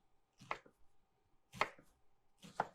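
Onions being chopped with a knife on a cutting board as a flavor base for chicken burritos, three distinct crisp chops spaced about a second apart, close and clear with no talking.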